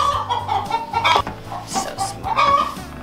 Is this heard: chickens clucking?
yes